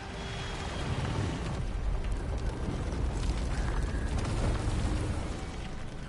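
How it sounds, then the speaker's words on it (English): Level 2 machine gun fire from Contra: Operation Galuga on PlayStation 5, a dense, continuous roar of rapid shots blended with booming blasts, loud and unbroken throughout. "Level 2 machine gun. Yeah, this goes."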